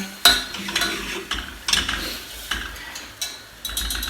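Köfte meatballs frying in a pan: a low, steady sizzle under sharp clinks and scrapes of a utensil turning them, several loud knocks spaced across the clip.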